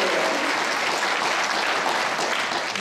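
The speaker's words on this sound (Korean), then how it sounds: "장우익 시인님께 더 큰 더 박수 보내주세요." Steady, dense applause from a concert audience honoring a poet at a Seoul art song festival, a continuous wash of many hands clapping throughout with no pauses.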